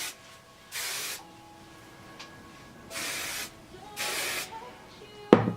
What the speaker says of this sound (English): So I'm just going to be spraying all my hair.